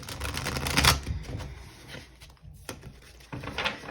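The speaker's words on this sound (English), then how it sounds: "Let's shuffle one more time." Tarot cards shuffled by hand, a run of quick papery riffles and soft taps in uneven bursts, close and fairly loud.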